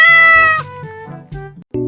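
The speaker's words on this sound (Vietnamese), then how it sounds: "Đang nửa đêm thì anh mèo trèo vào xin ngủ nhờ." A cat meows at night, with several long, loud harmonic cries close by, one after another, separated by brief pauses and no talk.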